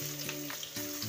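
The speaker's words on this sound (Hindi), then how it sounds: "प्याज को ब्राउन होने तक अच्छे से भून लेंगे।" Onions frying in hot oil in a pan, tempered with a bay leaf and dried red chilli for a jackfruit curry: a constant close sizzle broken by stirring scrapes, with no talk.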